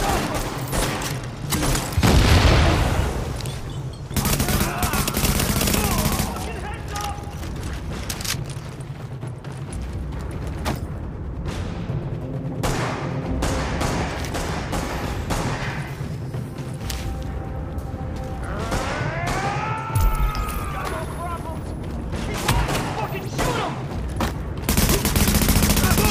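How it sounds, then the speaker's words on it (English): Heavy sustained gunfire in The Division, dense bursts and booms layered over a constant roar of battle, with faint radio voices and alarm-like tones partway through. "Escort party's taking heavy fire from the roof."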